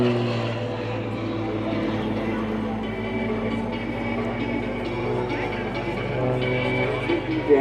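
A propeller aerobatic plane drones steadily overhead at the Polokwane airshow, its engine a loud continuous hum with tonal bands, while a commentator speaks over it.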